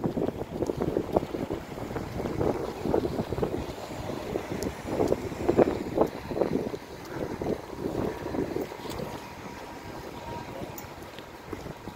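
Strong wind buffets the microphone outdoors at a football club, a steady roaring rush with gusting swells throughout and no talk.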